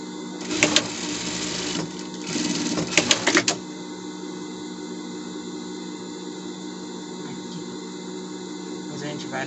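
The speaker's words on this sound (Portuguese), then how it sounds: "Depois a gente vai na overlock para dar limpeza aqui" An overlock sewing machine finishes the seams of a gala dress with two short, close bursts of rapid stitching, then runs quietly into a steady low hum of motor and room noise.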